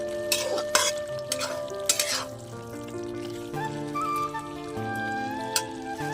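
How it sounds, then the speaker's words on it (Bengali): Potato and vegetable stems in a poppy-seed curry get stirred in a pan, with several sharp scraping clacks of a spoon over a soft, continuous sizzle. "দিয়ে একটু নাড়াচাড়া করে নিয়ে চাপা দিয়ে দেবো।"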